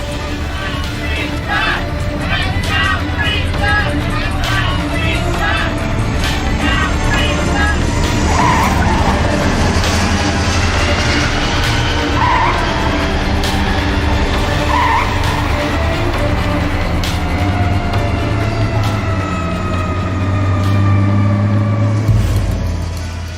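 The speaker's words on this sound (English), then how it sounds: "One tyre appears to burst in a cloud of smoke, but the landing gear holds up under the enormous strain" A wide-body airliner carrying 465 people lands hard on a runway, one tyre bursting in smoke as the gear takes the strain; a loud, continuous roar of skidding and engine noise runs throughout, with faint tonal whines over it.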